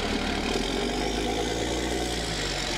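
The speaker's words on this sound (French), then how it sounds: "c'est un moteur suralimenté, Cummins, de 5 litres 9, système Common Rail, et qui développe 285 chevaux" Steady drone of a VHM armoured all-terrain vehicle's turbocharged Cummins 5.9 L common-rail diesel running, a continuous close engine hum with even, unchanging level throughout.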